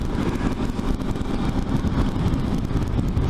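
Suzuki V-Strom motorcycle engine running steadily while the bike is ridden, a continuous close, loud broadband drone with wind-like rumble and no break.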